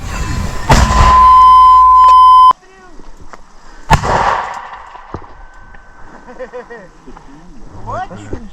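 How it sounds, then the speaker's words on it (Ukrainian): A loud gunshot blast followed by a long ringing tone, then a second sharp boom, with excited voices talking afterward. "Постріл!"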